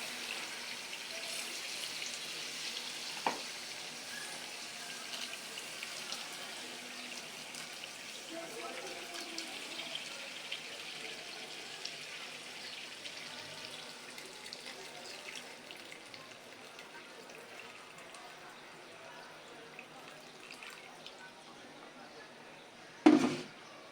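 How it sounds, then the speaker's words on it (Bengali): Hot water poured into a pot of beef that has already been braised in spices, a steady running splash lasting several seconds, moderately faint, with a sharp clatter near the end. "আমি এতে গরম পানিটা দিয়ে দেবো।"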